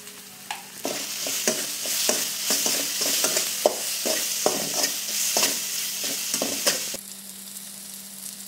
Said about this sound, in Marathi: चांगलं आपल्याला परतून घ्यायचं आहे। आपल्याला थोडीशी हळद, चवीनुसार मीठ,